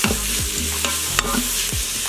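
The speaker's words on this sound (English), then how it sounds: "Hitting it with a little bit of olive oil. I'm gonna saute. Add in your full chopped onion." Chopped onion sautés in olive oil inside an Instant Pot, sizzling close up as a utensil stirs it in several quick scrapes, with no talking.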